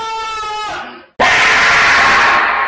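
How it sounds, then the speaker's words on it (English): A person screams loudly in a sustained, strained cry, breaks off for a moment, then bursts into a harsher, noisier scream that carries to the end; the source is a meme compilation. "Which one is the real scream?"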